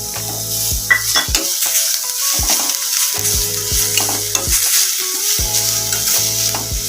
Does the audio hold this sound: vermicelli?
yes